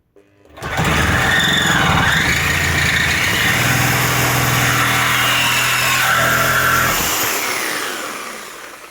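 Parkside PPFS 1250 A1 corded sabre saw with a genuine Parkside metal blade cutting a 1.8 mm metal profile at speed setting 6, a loud continuous buzzing, rasping drone lasting several seconds before winding down.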